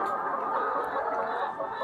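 Chickens on a poultry farm cluck in a dense, continuous chorus of overlapping calls, close and moderately loud, with no talking.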